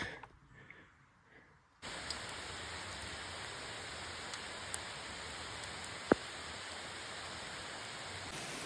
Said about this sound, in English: They weren't calling for rain, but just started coming down pretty good here.